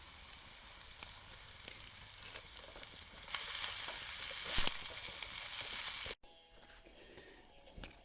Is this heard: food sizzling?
yes